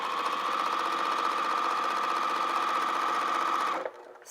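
A sewing machine stitches a holiday stocking with Gutermann thread on a 3 mm stitch, maybe in need of oil: a loud, steady, rapid whirring run from close by that halts abruptly near the end.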